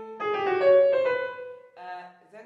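Piano plays the main motive of Shostakovich's Piano Sonata No. 1, a brief, soft phrase of a few held notes followed by two quieter notes.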